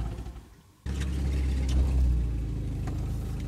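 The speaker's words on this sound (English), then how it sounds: "let me turn the vehicle off and see if that stirs him up" A hunting vehicle's engine idles with a low rumble, then cuts off abruptly, leaving quiet outdoor background.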